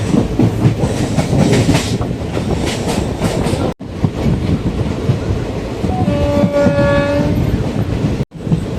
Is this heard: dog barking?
no